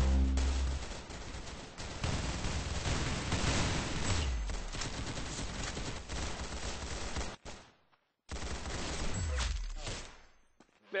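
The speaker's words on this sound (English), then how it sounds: "Very good shooting." Gunfire in the video game Arsenal: dense, loud bursts of rapid shots and explosions fill the clip almost continuously, broken by one brief silent gap near the end before the barrage resumes.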